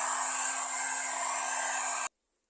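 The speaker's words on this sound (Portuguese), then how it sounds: "você também pode acelerar com o secador ou soprador" A hair dryer or heat blower runs steadily at close range, drying paint on a decorated Christmas bottle craft, then cuts off abruptly after about two seconds, leaving silence.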